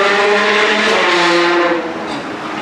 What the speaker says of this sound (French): là il y a 3 Ferrari qui arrivent